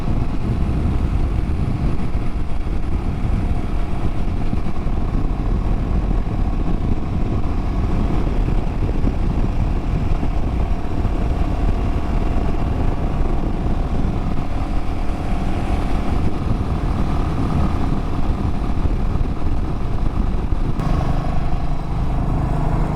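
Royal Enfield Classic 350 on a grocery run, its engine droning steadily under constant wind rush from the ride, loud and unbroken throughout.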